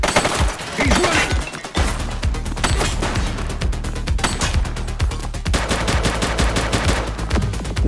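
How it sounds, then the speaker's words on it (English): Gunfire in the police video game The Precinct, dense rapid shots and automatic bursts, loud and continuous with a few heavier impacts and faint voices in the mix. "Shots fired!"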